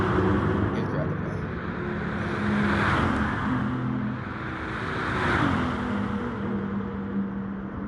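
Supercars roar past on a race track, engines loud and close, swelling and fading in two passes, with people talking over the noise.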